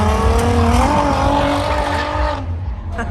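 Nissan 370Z Nismo with a straight-piped VQ engine drifting, a loud, raspy exhaust holding steady revs with rising and falling pitch before easing off near the end, with voices and tire noise under it.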